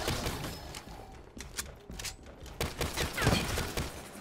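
Gunfire in Call of Duty Zombies on the Gorod Krovi map crackles in a dense, continuous barrage of rapid shots and impacts, fairly loud throughout the short stretch.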